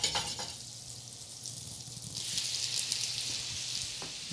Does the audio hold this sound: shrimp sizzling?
yes